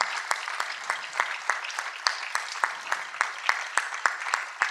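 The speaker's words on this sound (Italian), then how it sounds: "aspettiamo che finisce l'applauso" Audience applause at a band concert in Sonnino, a crowd clapping with a steady rhythmic pulse of sharp claps, sustained and fairly close throughout.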